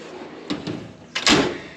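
A metal toolbox drawer is pulled open, giving a couple of short sliding clacks followed by a louder rattling slide and clunk, close and clear.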